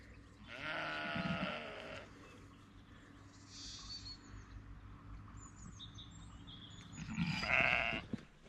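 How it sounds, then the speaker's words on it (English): Sheep and lambs bleat outdoors on a farm in two loud bursts at the start and end, with fainter calls and bird chirps in between. "It's a good day for the lambs and sheep to be outside."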